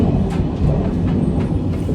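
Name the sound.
train riding along the rails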